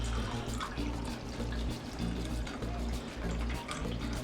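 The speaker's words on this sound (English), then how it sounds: "take some water, pour it inside of your dish" Water poured from a container into a roasting dish holding corned beef, a steady continuous splashing pour heard close up and alone for several seconds.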